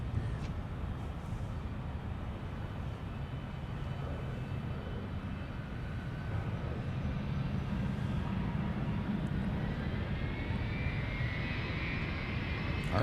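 A Delta Airbus A321neo jet bound for Anchorage lines up on runway 12 right at Minneapolis–Saint Paul airport, its engines giving a steady broadband rumble at moderate distance that swells slightly toward the end.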